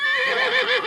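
A horse at a horse show gives a shrill neigh close by, loud and wavering for just under a second, with no talk over it.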